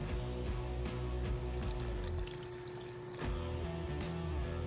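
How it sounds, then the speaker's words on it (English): Water poured from a container into a bowl of pizza dough mixture with olive oil, a steady continuous pour lasting several seconds with a brief dip midway, close and moderately loud, no talk. "let's add the rest of my water"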